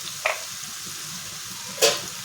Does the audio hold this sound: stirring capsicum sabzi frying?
yes